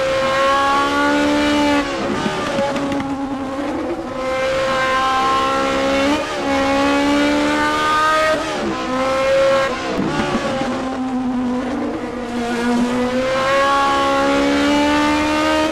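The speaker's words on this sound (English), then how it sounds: "Here's the view from Adrian Rice's cockpit in the number 21 Lotus Esprit S1." A number 21 Lotus Esprit S1 laps Lime Rock in a racing video game, heard from the cockpit: a loud engine wailing through repeated rising upshifts and dips into corners, with brief tire squeals.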